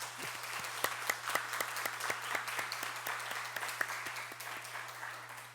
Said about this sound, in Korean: 우리 다 같이 한번 감사의 격려의 박수를 한번 했으면 좋겠습니다